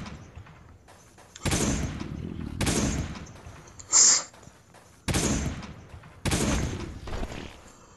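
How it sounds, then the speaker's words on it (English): A shotgun fires in the mobile video game Last Day On Earth, four heavy booming blasts spaced about a second apart, with a brief sharp electronic chirp between them. "Now with him, I'm gonna use my shotgun again."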